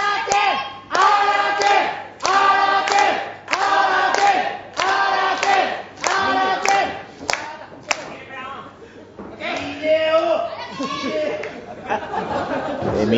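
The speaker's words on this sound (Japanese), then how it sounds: "すごい声援が飛んでますね" Loud crowd at a pro-wrestling singles match in Shinkiba, roaring and chanting in rhythmic bursts with rising and falling waves of cheering and clapping throughout.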